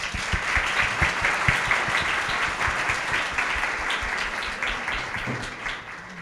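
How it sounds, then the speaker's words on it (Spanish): Applause from an audience at a circular-economy pitch event in a museum, dense steady clapping with a few sharper claps standing out, moderately loud and continuous throughout. "Bueno, muy bien, otro aplauso"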